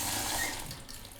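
Cold water runs steadily from a tap into a sink at a rural house in Japan, a close, continuous splashing hiss with no talk.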